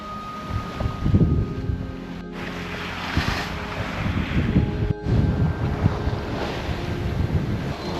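Strong wind buffets the microphone while rough Atlantic waves surge and crash around a sailboat on passage to Madeira, a steady loud roar with rhythmic swells and slaps of water against the hull, no voices.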